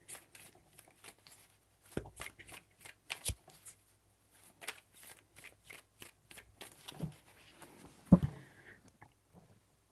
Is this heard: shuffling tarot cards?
yes